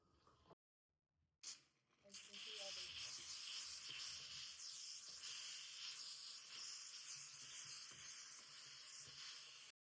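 A steam cleaner fitted with a concentrated steam tip lets out a loud, continuous hiss after a few short starting bursts, the jet holding steady close by until it stops abruptly at the end.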